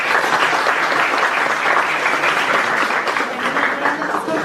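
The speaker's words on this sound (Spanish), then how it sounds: "Deseamos un fuerte aplauso." Sustained applause from an audience at a university law faculty sociology conference, dense steady clapping filling the room for several seconds without a break, fairly loud and even throughout.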